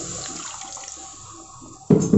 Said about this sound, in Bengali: এবার এর মধ্যে আমি পরিমাণ মতো জল দিয়ে দেব।